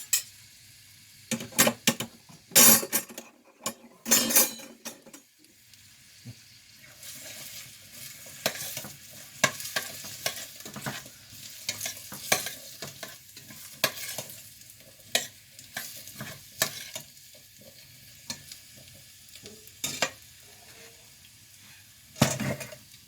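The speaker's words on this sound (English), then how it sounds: "There is the sauteing vegetables." Vegetables sauté in a pot for lentil soup under a low sizzle, stirred with a metal spoon that clanks and scrapes against the pot in bursts, with quieter stretches between.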